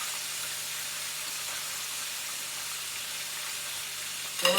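Chicken fillet pieces frying in oil make a continuous, even sizzle that stays level throughout, with a brief louder crackle at the very end.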